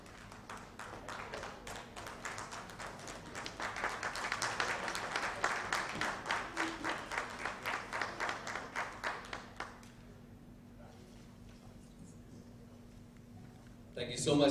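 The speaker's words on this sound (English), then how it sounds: "Please give a huge round of applause." Guests at a villa launch event applaud, the clapping swelling and settling into a rhythmic, unison beat before cutting off, followed by a quieter stretch of room noise and a brief sound at the end.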